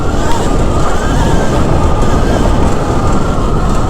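Ridden in sport mode, a ThunderWasp XR16 16kW electric dirt bike roars as a loud, constant rush of motor whine, wind and tire noise, filling the whole stretch without a break.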